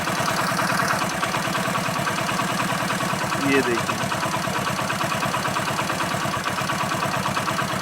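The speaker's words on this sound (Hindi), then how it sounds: "तो आइडलिंग स्पीड को आप इतना पे एडजस्ट कीजिए कि इंजन बंद ना हो" A Hero Splendor motorcycle engine idles after a carburetor adjustment with a steady, even, rapid thumping beat, loud and close, while someone talks briefly over it.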